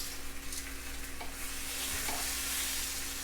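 Grilled peaches come off a sizzling pan: a steady, fairly close hiss of frying with a couple of faint utensil taps and scrapes as the fruit is lifted.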